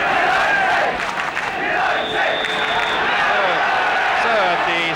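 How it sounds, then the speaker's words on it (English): Football crowd at White Hart Lane just before kick-off in a Spurs versus West Ham match, a steady dense roar of many voices with scattered shouts and whistles, fairly loud and continuous throughout. "The crowd, not a great one, but all set for the kick-off now."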